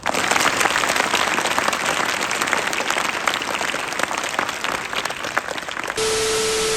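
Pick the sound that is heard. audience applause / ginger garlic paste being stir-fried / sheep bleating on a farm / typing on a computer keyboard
audience applause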